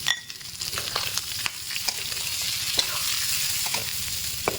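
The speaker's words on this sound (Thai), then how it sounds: "เราก็นำเม็ดข้าวโพดที่เราเตรียมไว้ลงมาเลยครับ แล้วผัดอีกสักนิด" Sweet corn kernels stir-fried with crispy pork belly in a hot pan, a steady close sizzle with scraping spatula strokes and clicks throughout, no voices.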